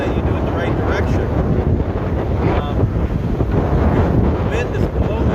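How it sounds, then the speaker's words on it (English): Strong wind blows outdoors at a rest area campsite, buffeting the microphone with a loud, constant rumble and rushing noise from start to end. "Wind is blowing, well, most wind blows west to east, but today it's kind of going all over."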